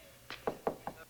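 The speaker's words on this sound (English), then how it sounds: "Knock knock." Four sharp knocks on a door in the 1973 horror film The Exorcist, evenly spaced and fairly close, set against a quiet background.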